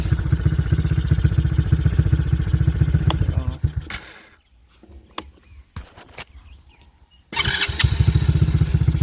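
A Chinese four-wheeler ATV engine idles with a steady, loud putter, cuts out into near silence with a few clatters and knocks for several seconds, then catches and settles back into the same close, even idle.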